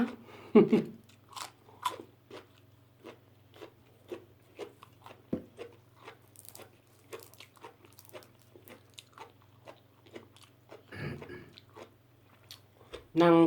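Someone eats spicy papaya salad with fresh shrimp, making repeated crunchy bites and wet chewing sounds in an irregular rhythm, close and clear, with a steady low hum underneath and brief voices at the start and end.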